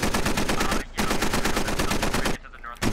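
Gunfire in the military shooter Squad, with rapid automatic bursts rattling loud and close, broken by two short pauses.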